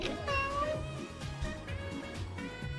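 A short cat meow rises and falls near the start of a run in The Binding of Isaac, heard over the game's background music.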